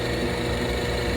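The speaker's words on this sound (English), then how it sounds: "what we're going to do is drill a hole through" A drill bores a hole through cherry wood with a Forstner bit, giving a steady, dense, close whirring roar with no pauses.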